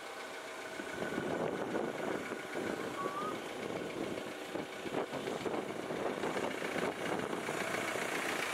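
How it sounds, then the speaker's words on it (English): A camper van engine running at idle, a steady, continuous rumble with a rough, even texture throughout, close and moderately loud. "The engine runs"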